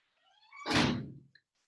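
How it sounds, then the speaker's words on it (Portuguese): A door slamming shut: a brief creaking swing builds into one loud, full-bodied thud that rings out quickly, followed by a tiny click and then silence. "Bateu a porta."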